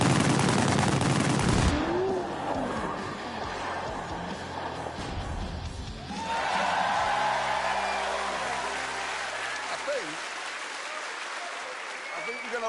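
Rapid bursts of pistol gunfire in The Grand Tour Game video game, loud crackling shots layered over engine noise and game sound, with voices talking throughout.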